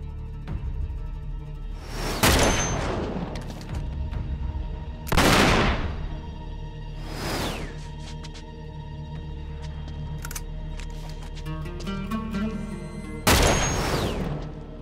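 Gunfire in the video game Uncharted 3: Drake's Deception, with several loud, close shots and bursts at irregular intervals over a low, humming game background.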